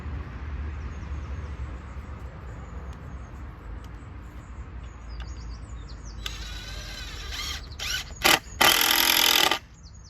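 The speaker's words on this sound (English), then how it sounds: "Let's get the drill ready" Outdoor ambience at an allotment with birds chirping, then a power drill whirs in short bursts and one longer high-pitched run near the end, close up.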